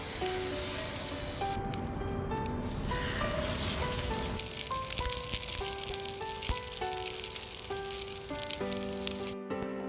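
Korean fish pancakes frying in a pan over medium heat: a continuous crackling sizzle, close and fairly loud, with faint tonal hum and occasional light rattles, no speech.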